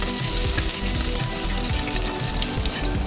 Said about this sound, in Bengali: কড়াইয়ের তেলটা কম করে আমি এর মধ্যে এবার গোটা জিরে, তেজপাতা আর গরম মশলা ফোড়ন দিলাম।